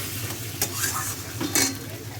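Taro leaves cook in a pan with jackfruit seeds and shrimp, a quiet, even sizzle with a couple of brief scrapes and utensil clinks against the pan, close up and without speech.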